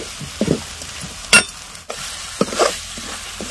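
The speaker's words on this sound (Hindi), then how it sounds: "टमाटर को हमने डाल दिया है कढ़ाई में और अब हम चला लेते हैं टमाटर को इस तरह से" Tomatoes being stirred with frying masala in a kadhai, the spoon scraping and knocking against the pan in a few separate strokes over a soft sizzle.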